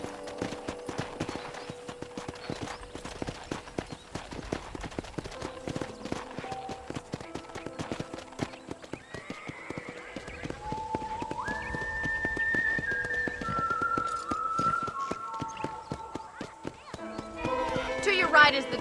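Horse hooves clip-clop steadily through a ranch in Red Dead Redemption, a moderately close, even rhythm running under a man's and a woman's conversation, with brief whistle-like tones rising near the middle.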